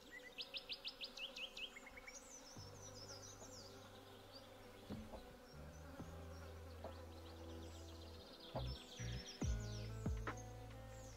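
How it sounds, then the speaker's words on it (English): Buzzing flies in the Stardew Valley farming game, heard as a steady insect drone mixed with chirping birdsong and low game tones, fairly quiet and without talk. "I just want to get rid of the fly sound."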